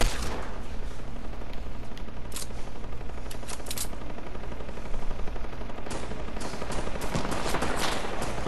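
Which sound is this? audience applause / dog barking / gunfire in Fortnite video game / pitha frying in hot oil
gunfire in Fortnite video game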